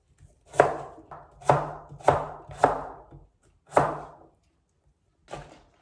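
A knife chopping beef into rectangular pieces on a board: six distinct, close, solid thunks in an uneven rhythm, each followed by a brief ring-off, and a softer final chop after a pause.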